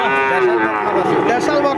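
A nine-month-old native-breed heifer calf moos loudly and close up in one long, drawn-out call at a busy cattle market.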